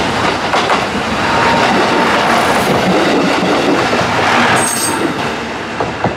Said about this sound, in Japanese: なんか通るなんか通るあ 普通の電車だ